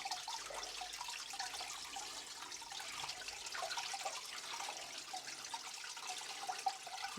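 Water from a bucket pours steadily into an aquarium's lily pipe outlet, a continuous close splashing gush that runs throughout with no speech.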